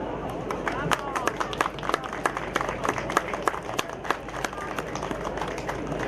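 An audience at a harvest festival in Czarny Bór, Poland applauds its guests with steady, dense clapping that continues throughout, close and lively, with a faint murmur of crowd noise underneath.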